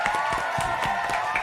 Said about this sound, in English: Round of applause to real talk for opening up on that.